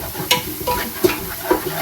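Onions sautéing in a pan on a home stove during Sunday cooking, with a steady low sizzle under repeated scraping and stirring knocks of a spoon against the pan.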